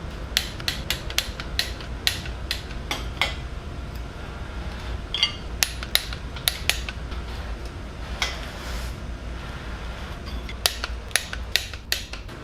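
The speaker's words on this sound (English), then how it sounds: "I'm going to torque them to 22 foot-pounds." Torque wrench tightening bolts on a Ford 302 V8 during a 1969 Mustang engine rebuild, sharp metallic clicks and ratcheting ticks in irregular clusters, close and clear over a low workshop background.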